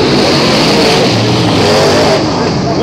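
Dirt trucks roar around Hattiesburg Speedway in a heat race, loud engines revving and sweeping past close by as the field accelerates.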